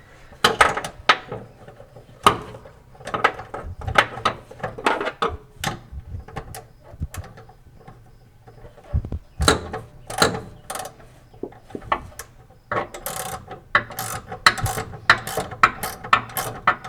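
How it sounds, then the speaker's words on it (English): Swiveling ratcheting wrench tightening a bolt on a Toyota Sequoia's Old Man Emu long travel shock absorber, giving repeated close metallic clicks and clatter in irregular bursts, with brief pauses between runs of ratcheting. "this is where our swiveling, ratcheting wrench is going to come into place to make sure I'm getting my rotation turned correctly."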